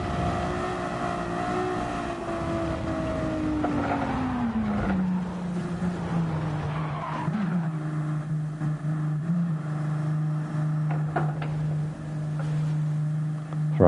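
A Ferrari race car in a racing video game drones steadily through the whole stretch, its engine pitch sliding down from a higher note to a lower sustained tone, with faint scrapes and knocks over the curbs.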